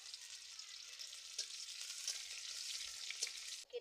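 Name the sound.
chopped onion frying in oil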